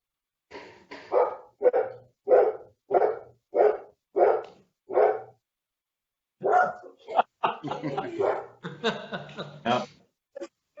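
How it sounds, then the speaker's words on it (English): A dog barks in a steady series of about eight sharp, evenly spaced barks, followed by a burst of faster, more excited barking close by. "Now my dog is barking."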